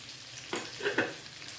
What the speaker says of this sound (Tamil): அந்த முள்ளங்கியும் போட்டு அதில் வதக்கணும்.